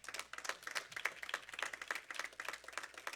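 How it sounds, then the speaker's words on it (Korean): An audience applauds at a church lecture, a dense, steady patter of many hands clapping for about three seconds, quiet and somewhat distant, with no voices over it. "우리 참 아버님께 큰 박수를 드리면서"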